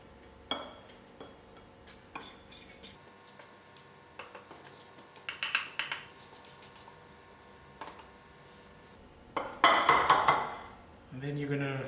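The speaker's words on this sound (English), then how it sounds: "you want to just mix all your seasonings into your flour" Seasonings and mixed herbs being stirred into flour in a bowl for chicken strips: sparse soft taps and scrapes of a utensil against the bowl, quiet and close, building to a brief louder rattling burst near the end.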